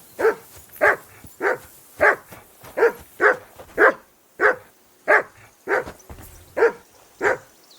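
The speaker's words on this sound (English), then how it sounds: "Call off that damn dog" A dog barks close by, about thirteen loud single barks at a steady, almost even pace, with no other sound between them.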